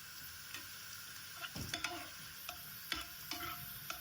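Chicken khichuri fries in a pan and is stirred, giving a soft steady sizzle with quiet scraping and ticking strokes scattered through it, close and low in level, with no talk.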